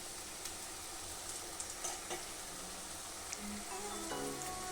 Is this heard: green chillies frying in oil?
yes